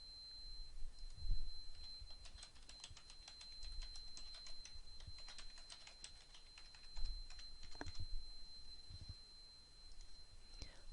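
Close-up clatter of a computer keyboard as a username and password are entered: quick, uneven runs of light keystrokes with short pauses, and no voices.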